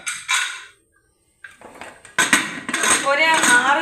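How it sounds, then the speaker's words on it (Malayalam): Metal clatter and clinks of a pressure cooker lid being fitted and closed over beef curry in a home kitchen, coming in short separate bursts with brief pauses between them. "കുക്കർ അടച്ചു വെക്കാം."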